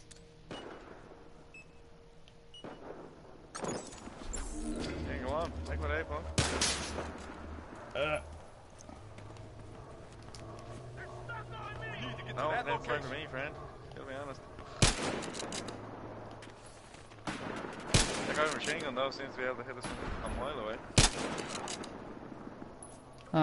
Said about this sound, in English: It's a sniper fight.